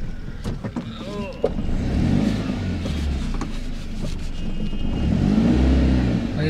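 A used Tata Nano Twist small car with power steering drives along, its engine a low rough hum rising and falling under cabin rattles and intermittent soft talking.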